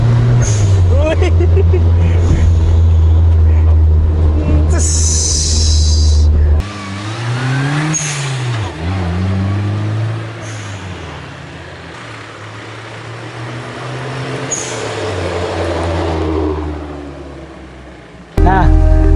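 A 1983 Suzuki Jimny with a turbocharged engine is revved, a loud, close engine idling roughly before climbing in pitch through several throttle blips, then settling, with a hissing air burst and voices present at times.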